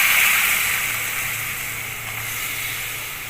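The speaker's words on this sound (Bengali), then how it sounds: "এবার আমি একটু গরম জল দিয়ে দেবো ঝোলের জন্য।" Hot water poured into sizzling spice paste for a tilapia fish curry, a sharp hiss at first that gradually settles into a softer steady bubbling steam, close and without speech.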